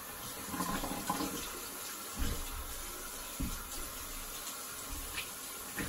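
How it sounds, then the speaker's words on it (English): Water from a tap splashes and runs while a face is rinsed after a razor shave, close and moderate, with irregular splashes and gushes and no talking. "Just go rinse."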